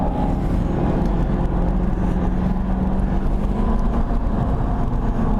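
Race car engine held at full throttle on the VIR circuit, a loud, steady, dense drone with no letup from start to finish.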